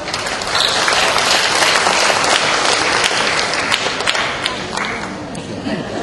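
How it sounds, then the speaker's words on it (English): Big applause for speakers at a Southeast Asian librarians' congress in Bali, a loud sustained crowd clapping that swells early and then eases off gradually toward the end. "can we give big applause for them?"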